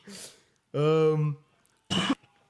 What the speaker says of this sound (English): I gotta keep coughing